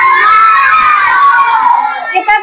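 A class of fifth-grade schoolchildren shouts together in a loud, sustained burst of massed young voices, rising and falling over about two seconds before breaking off.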